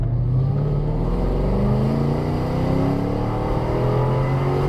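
A Mercedes E55 AMG wagon's engine hums loud and steady from inside the moving car, its pitch rising smoothly as it pulls through the gears under load.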